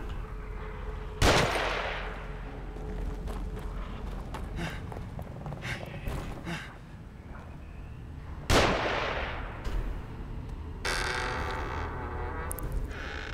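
Gunfire in the video game The Evil Within: two sharp, loud shots several seconds apart, with fainter rattling bursts and footstep-like shuffles between them and a crackly burst near the end.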